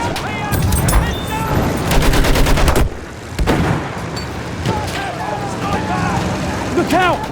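Machine gun fire in the WWI video game Battlefield 1 on the Somme map: rapid, rhythmic bursts of close, loud shots with explosions and engine rumble, under shouted in-game voices.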